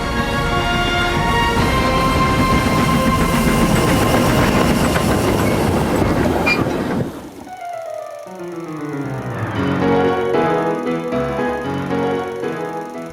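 Train on a small local railway rumbles loudly and steadily with rhythmic clickety-clack from the wheels, then thins out partway through into quieter rolling clatter and rising mechanical tones.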